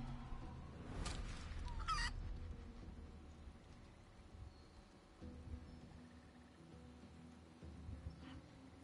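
A chicken in the video game Divinity 2 gives a couple of sharp clucking bursts early on, then quieter intermittent clucks over a low, steady game ambience.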